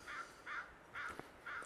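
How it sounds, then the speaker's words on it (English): Crows cawing in a series of four harsh calls with brief gaps, faint and distant-sounding outdoors, with no speech. "crows are kicking off"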